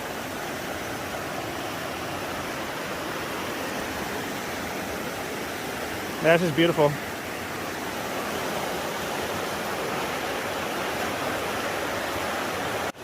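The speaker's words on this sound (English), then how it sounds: "I really, really, really like camping like right on the river." A river rushes past a mountain campground as a broad, steady roar of flowing water that holds throughout, with someone speaking briefly in the middle.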